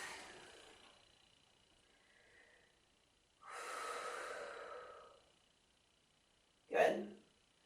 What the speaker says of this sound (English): Slow down your breath.